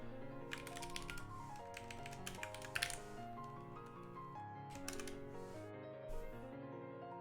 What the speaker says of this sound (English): we can see the speedy typing. You're speedy typing.